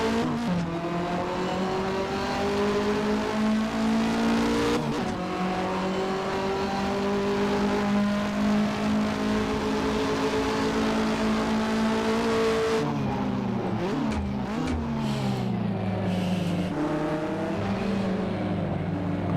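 1985–1992 Australian Touring Car Championship cars race in Assetto Corsa, a loud, continuous engine roar rising and falling through gear changes, with revving and shifts but no talk.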